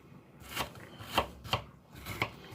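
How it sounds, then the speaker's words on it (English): Knife chopping a frozen block of tomato paste into small chunks on a board, with about five distinct, fairly soft, evenly spaced cuts alone in a quiet room. "I'm going to go ahead and cut it up in small chunks."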